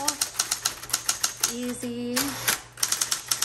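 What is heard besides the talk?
typing on 1960s Smith Corona Coronet Automatic 12 typewriter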